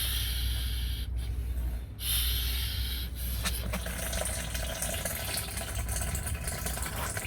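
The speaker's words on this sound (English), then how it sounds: "you should start pumping. and out goes the fluid" A fluid extractor pumps fluid out of the overflow tank on a 2017 or later Land Rover Discovery TD6 diesel, making a close, continuous gurgling, sucking rush with faint rhythmic surges.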